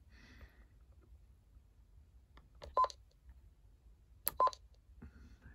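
Two short electronic key beeps from a Raymarine Ray-73 VHF radio, clear and close, separated by about a second and a half in an otherwise quiet room.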